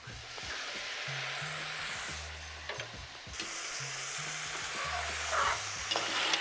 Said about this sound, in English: start to fry in the pot with the coconut milk and the okra and all the fresh seasonings